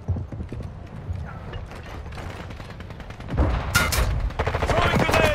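Bursts of gunfire in Call of Duty Warzone crackle in rapid volleys over a steady stream of battlefield noise, growing louder toward the end.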